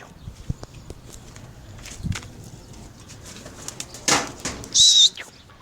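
A rooftop pet pigeon with dyed wings moves about, with faint soft coos, footsteps and a burst of loud wing flapping near the end.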